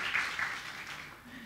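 Audience applauding a guest at an award ceremony: soft, steady clapping from a crowd, heard at a distance and fading slightly toward the end, with no clear speech over it.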